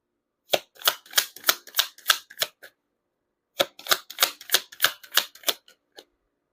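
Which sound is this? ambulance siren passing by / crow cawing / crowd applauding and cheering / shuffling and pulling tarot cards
shuffling and pulling tarot cards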